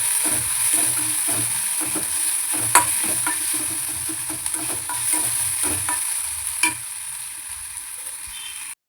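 Tapioca (maravalli kizhangu) sautéing in a pan for dosai, a steady sizzle with repeated scraping stirs of a spatula, close and continuous with no talk.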